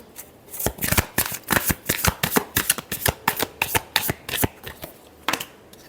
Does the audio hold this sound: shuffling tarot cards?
yes